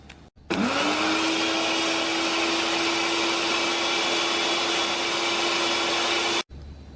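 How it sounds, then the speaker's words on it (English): A small electric spice grinder whirs steadily while grinding organically grown mace, a loud continuous high motor drone that starts abruptly, holds for about six seconds, then cuts off. "I'm using this little grinder, and these are organically grown, so I'm gonna do the mace"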